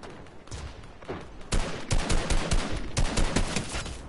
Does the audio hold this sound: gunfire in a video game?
yes